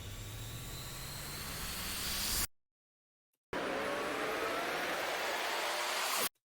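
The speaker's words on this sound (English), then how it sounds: "And then I've got 2 risers." Two riser sound effects in a drum and bass track each swell as noisy sweeping hiss with rising tones and cut off abruptly, separated by a second of silence. The first is longer and fuller at the low end, with no talking.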